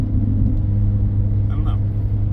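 A 2014 Ford Focus ST with a six-speed turbo engine being driven, a steady low rumble and drone from inside the car.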